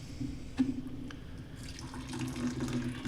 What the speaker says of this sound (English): I'm gonna give this a rinse with 112-degree water, boiling.